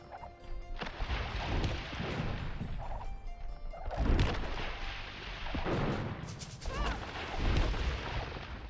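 Bombard cannons firing in an Age of Empires match as trebuchets go down: booming blasts and crashing impacts over dense battle noise, loud and continuous with several heavy hits.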